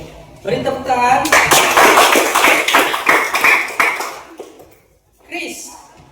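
Schoolchildren in a physical education class applaud a classmate after a forward roll, a loud, sustained patter of many hands for about three seconds that fades out, with children's voices heard at the start and end.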